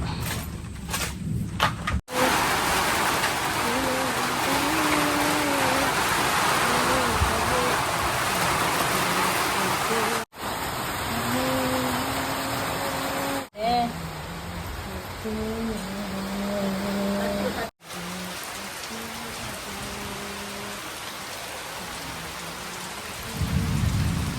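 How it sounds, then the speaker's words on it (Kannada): Steady, heavy rain pours down throughout, a dense hiss with a few low rumbles of thunder and brief breaks, while people talk quietly underneath. "ಹೊರಗಡೆ ಸಖತ್ತಾಗಿ ಮಳೆ ಹೋಯ್ತಾ ಇದೆ"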